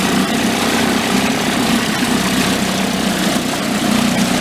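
A small Mercury outboard motor, bought broken at a yard sale, runs steadily at idle, a continuous close droning hum with even vibration and no talking.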